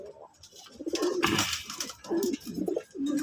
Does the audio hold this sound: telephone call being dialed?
no